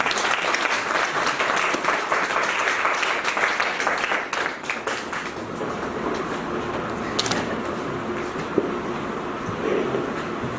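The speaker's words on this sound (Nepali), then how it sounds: "उहाँलाई हामी ठुलो ताली" Big, loud round of applause from a church congregation for a pastor, dense clapping that thins after a few seconds into scattered claps and room murmur.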